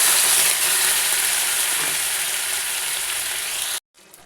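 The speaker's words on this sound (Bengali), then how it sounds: "এবার এর মধ্যে আমি জল দিয়ে দিচ্ছি একটু গরম করে" Water poured into a hot pan of sautéed ash gourd, producing a loud, dense hiss and sizzle that holds steady for nearly four seconds, then cuts off abruptly and leaves a quieter simmer.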